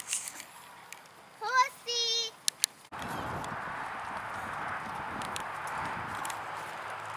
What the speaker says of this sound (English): The more horses are coming.